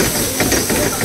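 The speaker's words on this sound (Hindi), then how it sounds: "टॉस करते करते आग लग गया है भाई" Pan-fried momos are tossed in an oiled pan as the oil catches fire, giving a loud, continuous sizzling hiss close by through the whole short burst.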